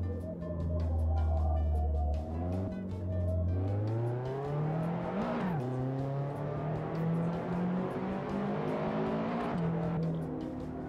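A race car engine in the Assetto Corsa simulator on the Mandalika circuit drones loudly and continuously, rising and falling in pitch through gear changes as the car accelerates and shifts across several seconds.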